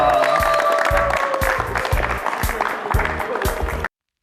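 An audience claps for a singing trio on a televised show, producing steady, dense applause with rhythmic thumping underneath that stops abruptly near the end.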